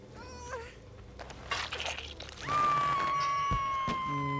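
Synthetic cat meows in the video game Dead by Daylight, a short one then a long drawn-out electronic-sounding meow, amid game sound effects and clatter.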